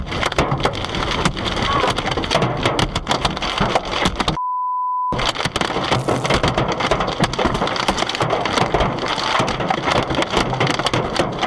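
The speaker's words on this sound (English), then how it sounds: "the rain was actually hail, which shattered the front and rear windows of the vehicle." Hail pelts a car during a storm, heard from inside the vehicle as a dense, loud, continuous rattle of hard impacts on the body and windows, briefly cut by a short gap of silence and a tone.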